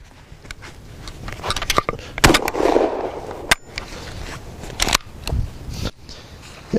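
A Panzer M4 shotgun fires Fiocchi shells outdoors in a cold blizzard, with several sharp, loud reports spaced irregularly, each followed by brief mechanical clatter and wind noise between shots.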